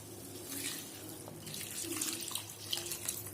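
Water, one and a half cups for one cup of rice, streams into a pot of vegetable pulao, a soft, continuous pouring splash heard close and alone.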